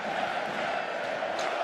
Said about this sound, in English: Look at the crowd rocking and rolling here in Ljubljana